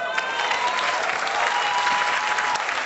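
An audience at a live poetry performance claps loudly and continuously, a dense sustained wave of applause from a full room.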